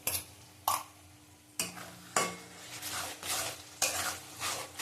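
Chicken fries in a pan after yogurt goes in for a panch phoron dahi chicken kosha, with a spoon scraping and stirring in repeated strokes over a soft sizzle.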